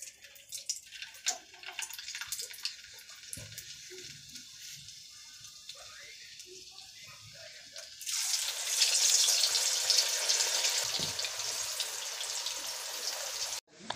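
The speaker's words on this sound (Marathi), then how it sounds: "मी डायरेक्ट तळणार आहे, आणि डायरेक्ट तळले तरी खूप छान होतात" French fries dropped straight into hot oil, a dense bright frying sizzle swelling up loudly after a quieter stretch of faint kitchen sounds and keeping a steady hiss to the end, with no talk.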